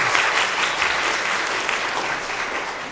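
A church congregation claps together during a founding anniversary Sunday service, a dense, steady wash of applause filling the room for the full three seconds.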